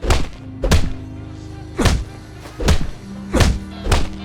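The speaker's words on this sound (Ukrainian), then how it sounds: "Тут на кулаках бій." Fist-fight punches in Fallout 4 land as about six heavy, dull thuds at irregular intervals, loud and close, with no talk over them.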